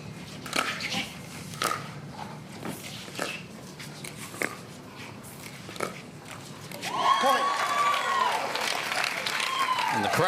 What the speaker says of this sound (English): And the crowd wants more pickleball, so they're going to get behind even a missed dink from Ben. They're cheering.